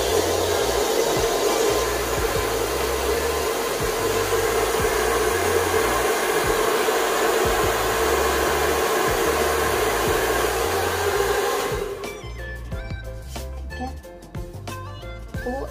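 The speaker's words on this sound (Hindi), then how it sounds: "अब मैं इसको मीडियम हीट पे रखूंगी क्योंकि जब हमने ब्लो ड्राई करना है फाइनल" Hair dryer set to medium heat blows steadily and loudly while blow-drying hair, a continuous whoosh that runs for about twelve seconds, then the airflow changes and a brushing, rustling texture joins as the dryer is moved.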